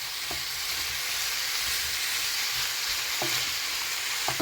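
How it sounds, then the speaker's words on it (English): Sausage frying in a breakfast pan while being stirred, a steady soft sizzle broken by occasional utensil knocks and scrapes, with no voices. "I'll mix that in thoroughly"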